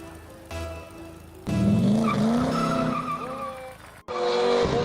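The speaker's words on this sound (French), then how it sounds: "il est équipé d'un moteur V12" A V12 car engine revs hard and loud, a sustained rising roar that climbs in pitch, drops briefly and surges again near the end, with tire-squeal-like tones and voices around it.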